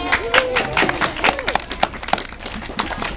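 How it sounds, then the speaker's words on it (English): Audience applause at a live staged reading of Artemis Fowl, scattered claps and crowd noise in an uneven burst. "If you're going to applaud all the time,"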